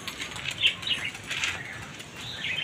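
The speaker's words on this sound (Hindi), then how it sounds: "ये दोस्तों उड़ गए दोनों।" Two pigeons take off with loud, rapid wing flaps and fluttering close by, the clatter of wings rising and fading in bursts over a couple of seconds.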